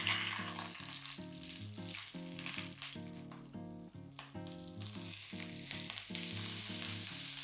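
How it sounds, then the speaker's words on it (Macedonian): Meat fries evenly in a hot pan, taking on colour. A soft, continuous sizzle hisses beneath louder melodic background music throughout. "Месото не ни делува сварено, туку почнува да добива боја, убаво рамномерно да се пржи на секаде"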